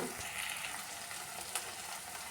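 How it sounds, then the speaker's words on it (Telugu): Cauliflower curry fries in a pan with a steady, close sizzle that holds for the whole stretch, a brief sharper crackle breaking through near the end. "కాసేపు ఇలా ఫ్రై చేసుకోవాలండి"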